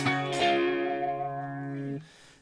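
Electric guitar through a live effects preset with Marshall-style tones playing a song intro: a couple of picked notes, then one sustained, heavily processed chord ringing and cut off at about two seconds.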